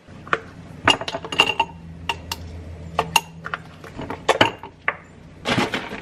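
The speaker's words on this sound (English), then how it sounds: "Add a few ice cubes and some milk." Ice cubes drop one after another into a glass, giving a quick run of bright clinks and rattles close by. Milk is then poured in as a softer splash and gurgle, and no one speaks.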